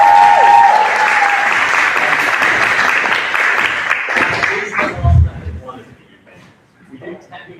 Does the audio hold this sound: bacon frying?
no